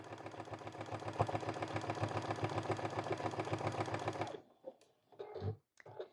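A sewing machine runs a top stitch around the edge of a mitten, a fast steady mechanical chatter for several seconds that stops abruptly, followed by a few faint handling clicks and thumps.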